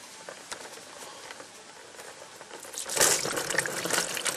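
Coolant that looks like plain water drips and drains from the radiator of a Toyota Tarago during a radiator flush, a steady patter that swells into a louder, fuller splashing flow partway through.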